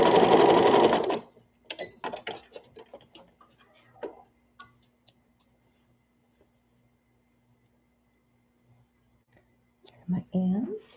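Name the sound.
sewing machine stitching a toddler peasant dress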